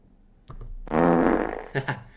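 A fart sound effect plays up close and loud: a short sputter, then a sustained buzzy blast, and a couple of brief puffs at the end.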